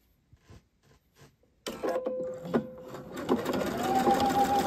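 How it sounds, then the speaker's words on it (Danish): A sewing machine stitches a buttonhole with Gütermann denim thread. After a few soft taps it starts abruptly and runs as a close, loud, steady mechanical whir with a rising motor tone. "Men nu laver jeg bare knaphullet, som maskinen vil vælge at lave det."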